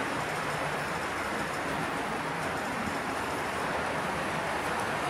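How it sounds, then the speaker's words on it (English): Model trains with noisy trucks and wheels running along the track, giving a steady, faint rolling rumble and hiss that continues without a break, with no voices. "And you hear noisy trucks and wheels off these model power cars."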